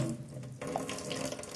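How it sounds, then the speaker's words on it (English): Water pouring steadily through a cup with a small hole, a continuous close trickle and splash like a running tap, with no talking. "we pour the same amount of water, which represents the same amount of light"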